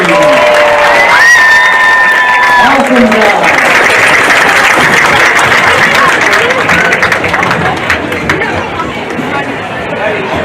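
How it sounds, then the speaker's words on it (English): A stadium crowd at a high school football game claps and cheers loudly for the Amherst Falcon marching band and cheer team, with steady applause and chatter throughout and a voice speaking briefly over the noise. "Let's hear it again for our Amherst Falcon Marching Band and cheer team"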